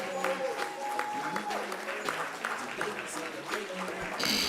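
Scattered applause from families at an 8th grade promotion ceremony as students file out of the building, moderately loud clapping mixed with voices talking and calling out over it.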